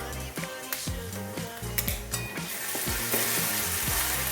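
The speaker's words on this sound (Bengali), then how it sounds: "পেঁয়াজটা লাল লাল ভাজা হয়ে গেছে।" Onions sizzle and crackle in a pan while a spatula repeatedly scrapes and knocks against the metal, the frying growing louder toward the end.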